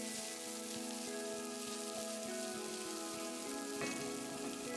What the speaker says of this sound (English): I'm just giving these onions and the garlic a little bit of a saute